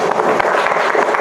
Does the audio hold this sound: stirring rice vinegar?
no